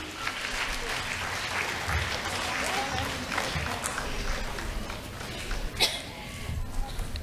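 An audience at a preschool annual day claps for a teacher, a sustained round of applause with scattered coughs and some voices mixed in.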